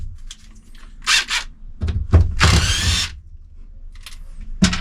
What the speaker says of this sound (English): I need my drill, my impact drill, with a posi head on it.